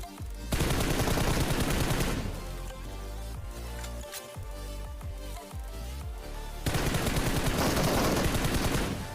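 Rapid automatic gunfire from a PUBG Mobile battle royale match rattles in loud, dense bursts at the start and end, with scattered single shots in a quieter stretch between.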